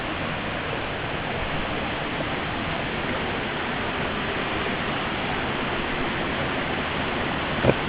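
A creek in the Grose Valley near Victoria Falls rushes steadily, a dense, even wash of flowing water that stays loud and unbroken throughout, with no voices over it.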